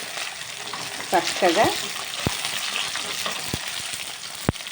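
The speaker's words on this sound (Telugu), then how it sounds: "ఇది వేగిపోయాయి కదా" Food frying in a pan, a steady sizzle with sharp clicks and taps of a utensil against the pan, as someone speaks briefly over it.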